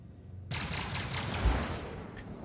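Ship gunfire in a Hammerhead battle in Star Citizen, a sudden loud onset of rapid repeated shots merging into a dense sustained barrage that thins out near the end.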